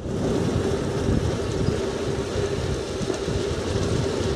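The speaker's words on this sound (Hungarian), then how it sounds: "Hú, de fúj a szél." Strong wind gusting outdoors beside a forest cycle path in southern Zala as a cold front moves in, a steady loud roar of wind buffeting the microphone throughout, with no voices.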